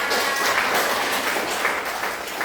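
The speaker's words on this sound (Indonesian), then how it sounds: "tepuk tangan untuk jawaban yang benar" Students in a chemistry class applaud a correct answer, a dense, steady burst of many hands clapping close by, holding evenly before easing slightly at the end.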